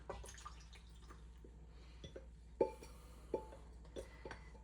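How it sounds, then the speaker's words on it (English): Water mixed with sourdough starter is poured into flour, giving a few faint, scattered wet drips and plops in an otherwise quiet room. "I'm going to pour my water and my mother's starter that I have kind of mixed up in there together"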